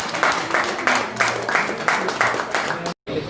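Rhythmic group clapping at a Corona warrior award ceremony, moderately loud bursts in a steady beat, ending abruptly in a brief silence.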